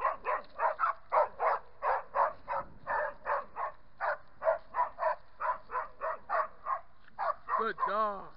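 A dog gives a rapid run of repeated barks and yips during boar and stag hunting training, close and loud in a steady rhythm, ending in a rising whine.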